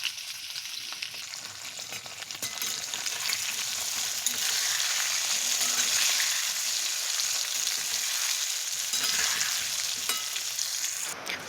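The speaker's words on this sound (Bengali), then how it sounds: "আলুগুলোর মধ্যে হাফ টেবিল চামচ নুন ও একটু হলুদ নিয়ে তারপর এবার আলুটা ভাজবো।" Potato pieces tossed with salt and turmeric fry in hot oil, giving a dense, even crackling sizzle that swells and stays steady throughout, close up, with a few faint stirring scrapes and no voices.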